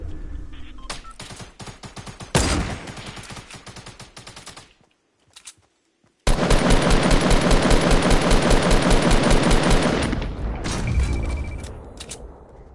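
Automatic gunfire from an SMG in a shooter video game, heard as dense rapid bursts shooting down a target, with a brief pause and then a long sustained loud volley that trails off.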